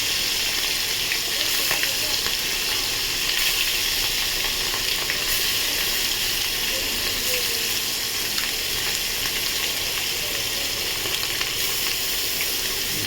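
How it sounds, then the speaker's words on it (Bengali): Fish marinated in salt and turmeric sizzles steadily in hot oil, a loud, continuous crackling fry heard close up for the whole stretch with no voices. "মাছটা আমি এরকমভাবে ভেজে নিচ্ছি।"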